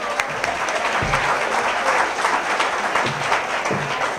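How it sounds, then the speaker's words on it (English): Audience applauding a woman called up to collect a prize at a Great Women in History event, dense steady clapping from a nearby crowd that holds for several seconds. "Let's give her a round of applause"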